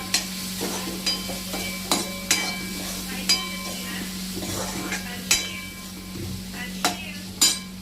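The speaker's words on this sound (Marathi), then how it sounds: "हळद, लाल तिखट मिक्स करून घेऊ।" A spoon stirs turmeric and red chili powder into pasta masala in a pan, making repeated sharp scraping clinks against the metal over a steady low hum and soft sizzle, close and moderately loud.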